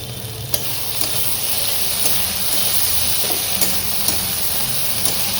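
Onion, brinjal and oil frying in a pan, a steady loud sizzle with occasional stirring clicks and scrapes throughout, no voices.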